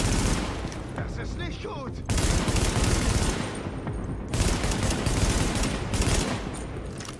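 Loud, dense gunfire in the video game Tom Clancy's The Division comes in sustained bursts with brief gaps between volleys, while someone speaks German over the shooting.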